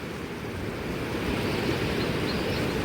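A swollen river after days of heavy rain flows noisily, a loud steady rushing wash that builds slightly, no talk.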